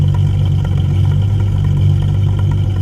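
Steady, low rumbling hum of a Jaguar E-Type Series 3 V12 engine running at idle, close and constant with a faint mechanical whir on top.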